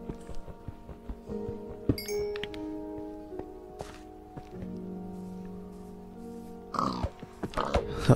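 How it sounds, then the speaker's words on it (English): Low pig grunts in Minecraft, a few short snorts scattered among soft game clicks, footsteps and rustling, with a busier burst of activity near the end. "Let's see if I can kill a pig with this."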